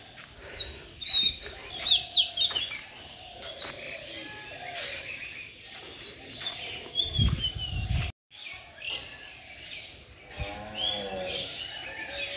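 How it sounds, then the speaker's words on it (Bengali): Birds calling around a shady village in Tangail: bright chirps and tweets from several birds at a moderate distance, mixed with soft dove coos and occasional wing flaps, with rustling wind. "চারিদিকে পাখি ডাকতেছে কিচির মিচির"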